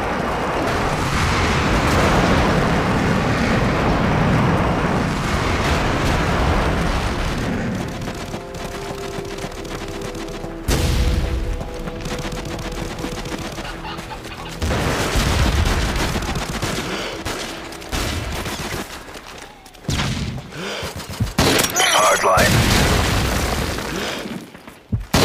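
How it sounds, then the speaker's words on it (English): Airstrike explosions in Modern Warfare 3 on the Wii, Village map, during a free-for-all match: loud repeated booming blasts mixed with bursts of gunfire, dense and close, with brief lulls between heavy impacts. "Enemy airstrike approaching."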